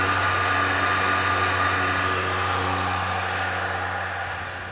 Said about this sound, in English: then you get your heat gun